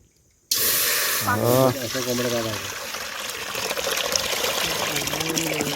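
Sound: water poured into a cooking pot for Maggi noodles

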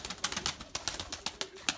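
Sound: pigeons cooing

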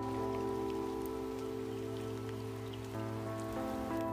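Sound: rain falling

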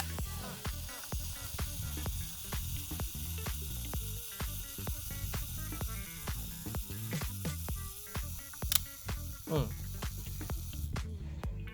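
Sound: Yashica Electro 35 camera self-timer running before shutter release

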